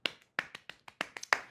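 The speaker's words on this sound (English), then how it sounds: "let's give ourselves a round of applause" A few people clapping briefly for themselves at the close of a podcast season, a sparse, uneven run of separate hand claps, close and quiet.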